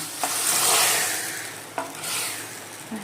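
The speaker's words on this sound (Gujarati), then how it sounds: "આ વઘાર જાસ્તે સીધો દાળમાં" A hot tempering of oil with red chilli powder, garam masala and sambar masala poured straight into cooked dal: a loud burst of sizzling and crackling, followed by stirring with a few sharp clinks of a spoon against the pot.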